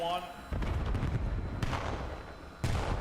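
Several grenades go off in quick succession during a Call of Duty esports match, giving heavy booming thumps over a dense rumbling background of game noise.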